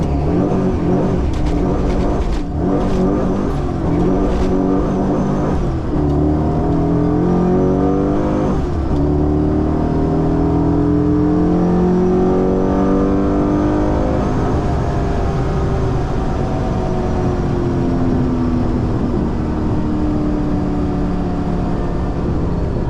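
A Holden Commodore accelerating hard down a drag strip at a street car challenge, engine roaring loud and close as it climbs through the revs and repeatedly bounces off the rev limiter, with rising and falling pitch across gear changes.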